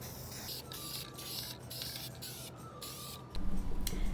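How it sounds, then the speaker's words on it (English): Short bursts of spray paint hissing onto a glass jar, several quick sprays in a rhythmic pattern, close and moderately loud, ending with a soft handling clatter. "time for spray paint."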